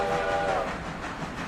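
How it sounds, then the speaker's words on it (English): A New York style steam train whistle from the railroad game Railroader gives a short chord-like blast that fades within about half a second, leaving low rumbling noise. "How about a New York one?"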